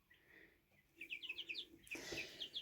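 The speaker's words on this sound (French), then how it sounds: "vous avez entendu le mâle d'écaille qui chante comme ça, c'est super, super rare qu'on l'entende" A tortoiseshell rooster crows faintly in short, rapid, high-pitched bursts, repeated twice with a brief louder thump between them, heard at a distance.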